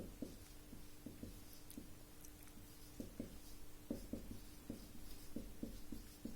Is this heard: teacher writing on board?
yes